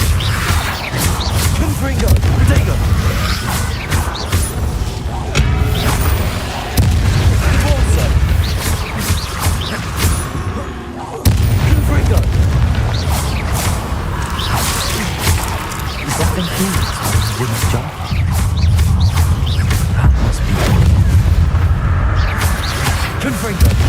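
Confringo blasting spells exploding in Hogwarts Legacy: a dense, loud run of booming blasts, whooshes and crashing impacts that keeps going without a break, with a voice calling out over the battle.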